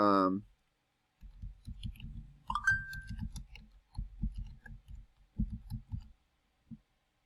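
A few soft, sharp clicks like a mouse button, spaced out over several seconds amid quiet room noise.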